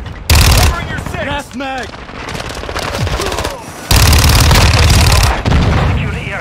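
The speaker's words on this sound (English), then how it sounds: "Enemy fire here!" Loud automatic gunfire and explosive bursts from Call of Duty: Modern Warfare 2, sustained rapid firing with heavy booming surges, while voices shout radio-style callouts over the combat.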